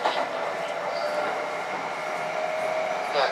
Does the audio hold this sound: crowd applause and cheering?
no